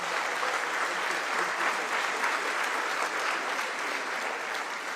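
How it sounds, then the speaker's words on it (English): Sustained applause from a seated audience at a formal official gathering in Gigiri, dense and even clapping that carries on at full strength for the whole stretch with no talk over it. "A warm round of applause for His Excellency"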